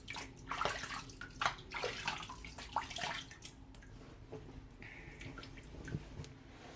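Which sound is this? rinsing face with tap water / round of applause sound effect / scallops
rinsing face with tap water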